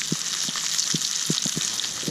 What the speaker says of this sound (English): We'll whack the fish straight in. That should sizzle a lot.